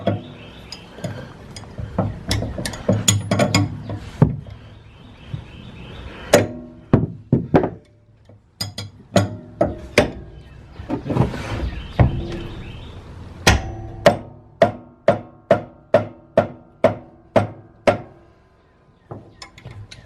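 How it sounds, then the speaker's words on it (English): A wrench and rubber mallet work a blade loose on a Toro walk-behind mower, sharp dull thunks and knocks striking irregularly at first, then settling into a steady run of evenly spaced blows, close and loud. "All you need is the right wrench and a rubber mallet."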